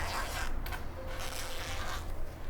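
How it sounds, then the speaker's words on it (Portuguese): A zipper is pulled apart while removing it from a piece of a thermal lunch bag, a soft continuous rasping close by that lasts a couple of seconds. "Feito isso, eu vou destacar esse zíper."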